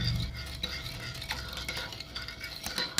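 Sesbania flower salad with shrimp tossed by hand in a bowl, giving soft, continuous mixing and stirring sounds with faint clinks of utensils, fairly close and moderately quiet.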